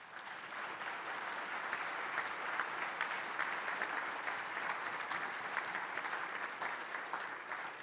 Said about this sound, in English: If we could give our panelists a round of applause.